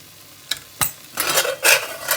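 Dal makhani tadka in hot oil: a few sharp clinks of a ladle against the pot, then bursts of crackling sizzle growing louder toward the end, close and brief.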